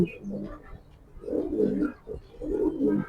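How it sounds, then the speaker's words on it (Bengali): A black Maxi racing pigeon gives soft, low cooing phrases in two or three close bursts, with quiet background noise between them. "এটা একটা মাক্সি কবুতর"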